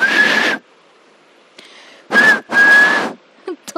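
A narrator imitates a whistle with the mouth: three loud, clear whistled notes, the first short, then two longer ones in quick succession, with a brief breathy sound between and small clicks after.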